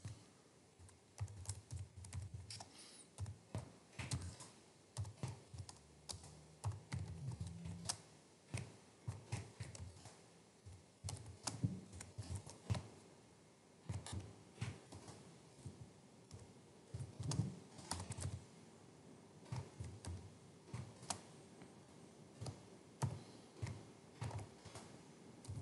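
Someone types on a computer keyboard while entering label details in document-customisation software, a close, continuous patter of key clicks in uneven bursts with short pauses, alone without speech.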